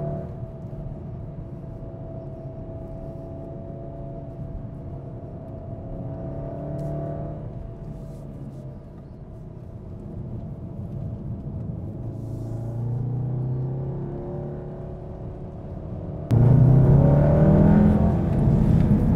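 Inside a 2015 Volkswagen Golf R as it powers out of tight corners, the engine drones low and its pitch climbs and falls with each burst of throttle. The note surges much louder near the end. No one speaks.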